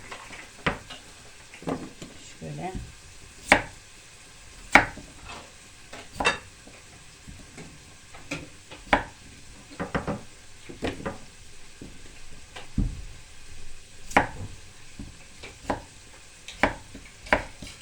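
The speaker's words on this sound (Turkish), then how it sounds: "Patateslerimizi de bu şekilde doğrayacağım." A knife chops potatoes on a board in a home kitchen, with a Turkish olive oil celery dish in progress: irregular sharp knocks, close and moderately loud, over a faint background hum and no talk.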